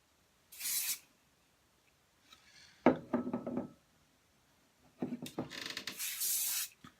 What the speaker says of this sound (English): give it a final hairspray